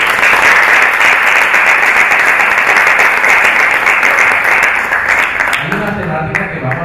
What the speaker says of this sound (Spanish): le damos pues la bienvenida al arquitecto Luis Armando Jaime con un fuerte aplauso